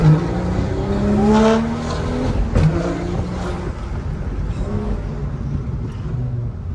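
BMW 335 with N55 engine and manual gearbox revving outdoors, a throaty rising rev that swells then settles into a rumbling idle, fairly close and loud with no talk.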